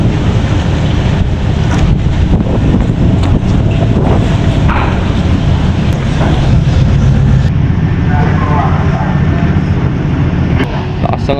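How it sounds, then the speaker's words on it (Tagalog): Strong waves slap against a boat in gusty wind, a loud, continuous rush of wind buffeting the microphone over the churning water, with brief voices faintly under it. "Lakas ng alon, no?"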